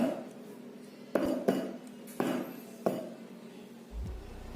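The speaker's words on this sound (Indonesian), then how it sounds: "Hentakkan loyang beberapa kali." A baking pan tapped down on a counter four times, making sharp, evenly spaced metallic knocks with short ringing tails, close and alone.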